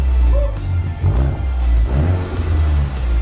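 A car fitted with an aftermarket AWE exhaust revs hard several times in loud, deep bursts, the throaty exhaust rising and falling close by.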